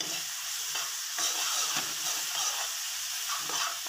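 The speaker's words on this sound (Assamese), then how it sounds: "এয়া মই লৰাই সিজাই লৈছোঁ।" Tomatoes stirred in a hot pan while cooking for matar ghugni, a steady broadband sizzle and frying hiss with soft scraping strokes of the spoon throughout, no voices.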